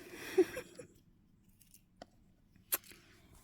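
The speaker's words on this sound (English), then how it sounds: "I have to cut these little bits off of them" Scissors snip small molded bits off tiny doll accessories such as bracelets and earrings, giving a few sharp isolated clicks spaced apart in a quiet room after a short rustle at the start.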